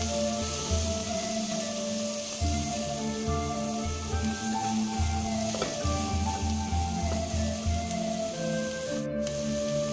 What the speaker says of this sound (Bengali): এবার খুব ভালো করে নেড়ে মিশিয়ে দিয়েছি।